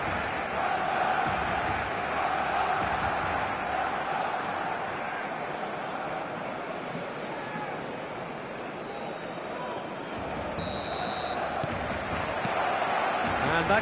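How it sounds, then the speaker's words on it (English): Large football stadium crowd before kickoff, a dense, steady roar of voices and chanting filling the whole stretch at a constant high level, with a brief whistle-like tone near the end. "This crowd doesn't do ordinary, and we should be in for something very special."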